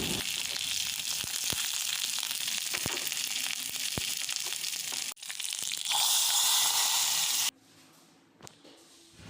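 Mustard seeds, onion, dried red chilli and curry leaves crackle loudly in hot oil, then a hissing surge as the tempering is poured into a jackfruit seed, mango and drumstick curry, fading to a quieter sizzle.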